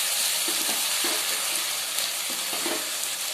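Spice masala fried and stirred over medium gas in a pan gives off a steady, even hissing sizzle, with faint soft stirring touches and no talk.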